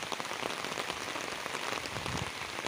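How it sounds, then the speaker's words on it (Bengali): Steady rain patters on surfaces outdoors during a heavy downpour, a dense continuous hiss with no voices. "এই বৃষ্টি কবে কমবে"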